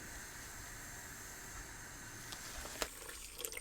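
Hot water pours in a steady, soft hiss onto fine bulgur wheat and fine semolina in a bowl for a kibbeh crust, ending with a few faint splashes and clinks.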